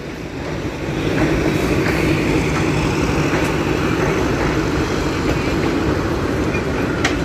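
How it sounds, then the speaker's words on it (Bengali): A train heading toward Gandaria railway station rumbles past close by with a steady, broad roar that swells after the first second and holds loud to the end, heard from a rooftop with no talking. "এই ট্রেনটা এখন গ্যান্ডারিয়া রেল স্টেশনে যাবে"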